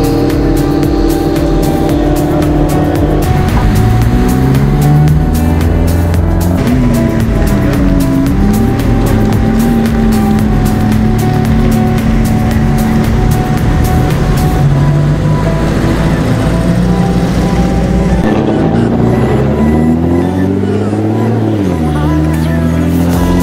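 Drag race cars idle and rev at the start line of an autodromo track day, a loud continuous engine drone with shifting pitch and rumbling exhaust, staying steady and close throughout.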